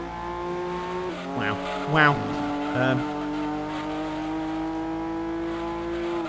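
Racing cars in Gran Turismo 2, including a Datsun, with steady engine drone, brief tire squeals and revving bursts as cars jostle, and a voice exclaiming over the game sound.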